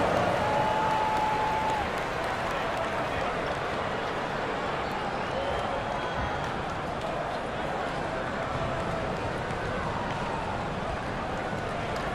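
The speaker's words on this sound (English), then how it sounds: "Give them a round of applause." Steady, dense crowd applause fills an arena at an NBA basketball game, Miami Heat versus Golden State Warriors, loud and continuous throughout, with a brief whistle-like tone near the start.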